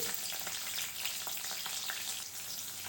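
Chopped medium onion sizzling in hot oil with cumin seeds for a Rayalaseema-style carrot fry, a steady close crackle with light stirring taps throughout.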